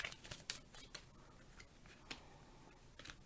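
Tarot cards are shuffled by hand, quiet crisp riffling and snapping flicks in irregular bursts, close and soft with no talking.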